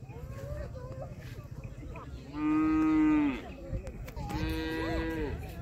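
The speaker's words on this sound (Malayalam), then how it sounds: "കാട്ടുപശു കേട്ടോ, കാട്ടുപശു." Wild cattle on an open grassy hilltop moo twice, one long low call near the middle and a shorter second one after it, over steady outdoor background noise.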